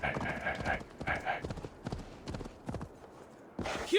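Horse hooves clip-clop in a steady rhythm in Assassin's Creed Valhalla, close and clear, while a voice talks over the game sound.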